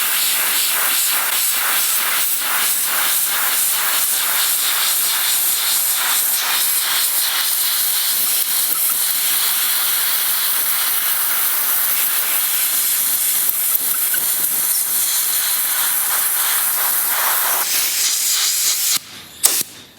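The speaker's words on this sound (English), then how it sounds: "I'm going to take an air hose and blow that out" An air hose blasts compressed air into beetle tracks bored through old wood, a loud continuous close hiss with slight pulsing, ending in a few brief spurts.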